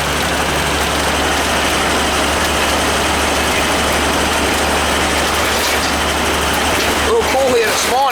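A new oil furnace burner fires during a combustion test, giving a steady, loud, close rumbling roar with a low constant hum that runs unbroken throughout, while a voice speaks near the end.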